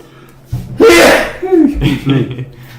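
A single loud, close sneeze bursts out, and a voice talks right after it.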